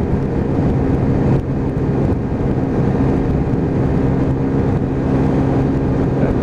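Lexmoto Titan motorcycle engine held at full throttle, a loud continuous droning roar with steady revs and wind rush, close and unbroken, no voices.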